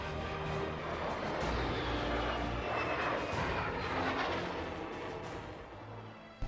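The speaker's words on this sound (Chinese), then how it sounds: "歼十战斗机。" A J-10 fighter jet roars past at the Zhuhai airshow, its loud, continuous engine noise filling the air before tailing off slightly at the end.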